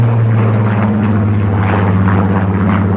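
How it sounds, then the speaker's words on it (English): A Spitfire, a piston-engined propeller fighter, passes overhead at Filton, a loud steady droning engine roar holding throughout. "Overhead, a Spitfire flew past in salute."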